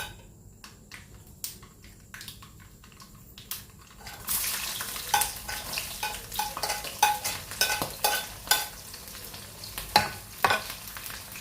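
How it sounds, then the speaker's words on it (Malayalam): Garlic drops into hot oil with popped mustard seeds for beetroot pickle: a quiet hiss at first, then louder bubbling sizzle with repeated scraping stir strokes and small crackles. "ഇനി നമുക്കിതിലേക്ക് വെളുത്തുള്ളി ഇട്ട് കൊടുക്കാം"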